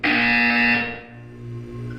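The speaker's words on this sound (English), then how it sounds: "You will hear a buzzer." A loud, steady electronic buzzer from the Portal 2 video game drones for under a second, then drops to a lower, softer hum that continues to the end.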